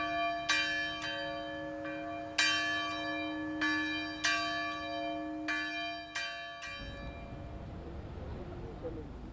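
Church bells toll 22 slow, spaced strikes in Uvalde, each ringing out and decaying, until the ringing stops and faint background noise remains.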